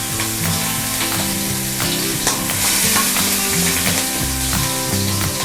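Chili and garlic fry in hot oil in a pan as the start of a stir-fry of bitter melon, shiitake and pork, giving a loud, steady sizzle that runs throughout, with music playing underneath.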